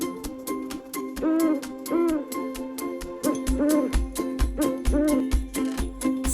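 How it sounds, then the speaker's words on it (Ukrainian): Owl-like hooting calls repeat several times over a steady ticking beat, close and fairly loud, with no talking. "Сова каже угу, угу."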